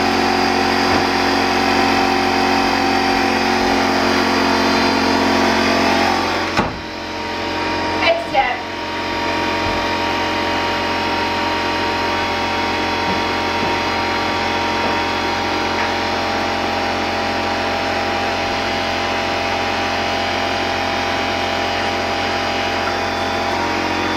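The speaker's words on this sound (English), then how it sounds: "please enjoy the soothing sounds of the air compressor" An air compressor runs continuously in an upholstery workshop during stapling of fabric onto a Victorian settee, a loud steady hum that dips briefly with a few sharp clacks midway before resuming unchanged.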